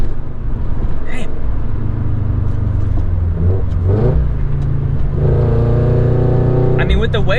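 A 2016 Scion FR-S with stock suspension cruises through corners at speed, its engine holding a loud, steady drone close by that rises and falls with throttle changes, while someone talks over it.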